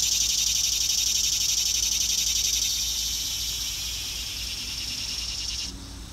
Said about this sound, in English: Sorry about the cicadas. There's a lot of them around here.